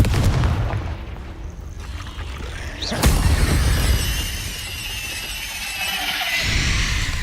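A fiery blast from the Confringo spell in Hogwarts Legacy bursts out with a sudden sharp crack over steady combat rumble, fading into a hissing, crackling wash; no talk.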